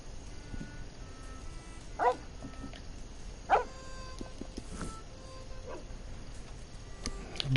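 A puppy in Red Dead Redemption makes a couple of short, faint yips and whimpers over steady game ambience.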